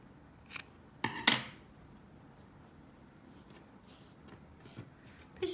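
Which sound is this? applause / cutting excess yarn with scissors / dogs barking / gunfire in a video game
cutting excess yarn with scissors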